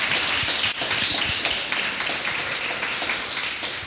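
An audience applauds steadily, a dense wash of many hands clapping together at a fairly loud, even level throughout.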